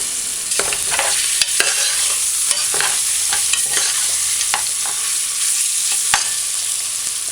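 Curried goat meat frying in a pot on a stove at medium-high heat, a steady loud sizzle broken by scraping stirring strokes and scattered sharp clicks.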